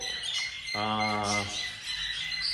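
Pet tufted birds giving a single harsh, buzzy squawk of about a second, fairly close, against a faint room background with soft chirps around it.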